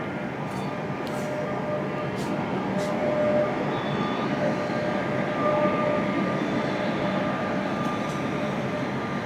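A Sampark Kranti express on a long Chandigarh-to-Kerala run begins rolling after its brakes release, heard from onboard as a steady, even rumble with a few faint metallic clicks and squeaks early on.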